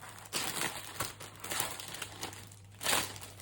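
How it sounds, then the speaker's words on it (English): A large plastic bag crinkles while being handled during an unboxing. Close, papery rustles swell and fade in a few bursts, with the loudest crumple near the end. "Such a big plastic bag, isn't it?"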